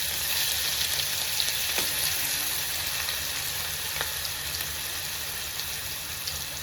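Ginger garlic paste fries with fenugreek and fennel for a Sri Lankan spicy chicken curry, a steady, close crackling sizzle with a few sharp ticks and faint stirring scrapes.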